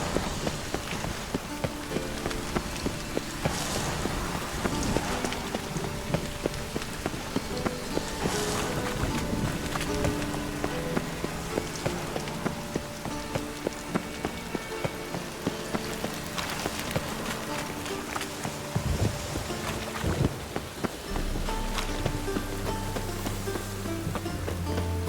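Steady rain in the video game The Witcher 3 patters on surfaces alongside a soft musical background, constant and fairly quiet throughout.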